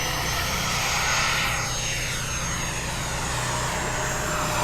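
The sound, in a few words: radio-controlled Pilatus PC21 model airplane engine at takeoff throttle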